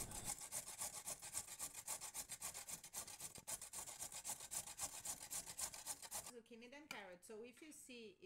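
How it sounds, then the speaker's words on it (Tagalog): A carrot is rubbed against a grater for zucchini pie in a rapid, steady rasping rhythm that is close and fairly faint, followed by a few seconds of speech. "Isang carrot lang sa 2 zucchini. Tapos kayurin natin."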